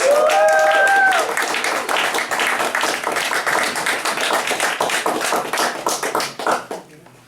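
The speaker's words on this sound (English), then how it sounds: "Can we give him a big round of applause?" An audience claps for a spoken word performer, a loud burst of hand clapping over a brief musical tone that thins out and fades to a few scattered claps.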